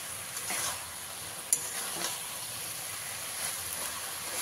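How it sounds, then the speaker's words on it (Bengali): Cooked pumpkin greens with their stalks are stirred in a pan, a soft, steady sizzle and hiss with faint scraping and one sharp utensil clink, heard fairly quietly throughout. "এবারে ঢাকাটা খুলে দিচ্ছি, দিয়ে খুব ভালো করে মিশিয়ে দিতে হবে।"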